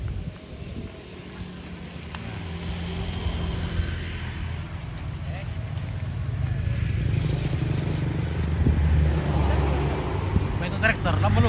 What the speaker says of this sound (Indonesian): Itu traktor lama lu.